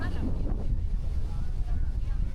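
Wind buffets the microphone with a low, steady rumble, loud and close, with no talking, at a busy boat spot in El Nido, Philippines.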